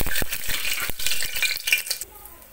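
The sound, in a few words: garam masala sizzling in hot oil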